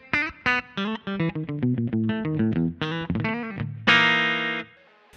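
An electric guitar played through a Kemper amp profile of a twin reverb, mostly on the middle pickup, plays a quick run of clean, bright plucked notes and ends on a sustained ringing chord.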